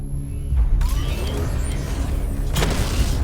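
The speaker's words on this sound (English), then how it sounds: "Destroy targets to charge up weapon energy and activate missile barrage." The Batmobile fires a missile barrage in Batman: Arkham Knight, a heavy rumbling boom with mechanical whirring and a second sharp blast near the end, loud and continuous, with no voices.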